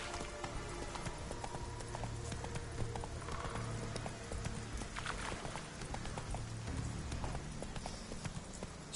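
Horse hooves clip-clop at a steady walking pace in The Witcher 3 video game, a continuous rhythmic clatter over ambient game sound, with an occasional faint whinny.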